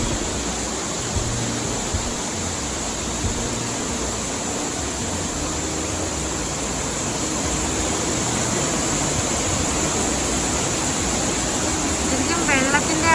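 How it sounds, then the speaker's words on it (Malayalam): A monsoon-swollen shallow waterfall in Vagamon gives a constant, close rushing hiss of falling and flowing water. It holds evenly throughout, with a voice talking over it. "നമുക്ക് കാല് നനയ്ക്കാൻ മാത്രം പാകത്തിനുള്ള ആഴമാണ് ഈ വെള്ളച്ചാട്ടത്തിനുള്ളത്. ഒഴുകി ഒഴുകി പോയിക്കൊണ്ടേയിരിക്കുകയാണ്."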